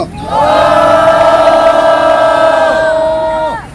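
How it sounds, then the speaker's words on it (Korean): A crowd at an outdoor press conference in front of the defense ministry lets out one loud, sustained cheer in unison that holds for about three seconds, then fades out. "여러분의 힘찬 박수 함성으로 시작하겠습니다"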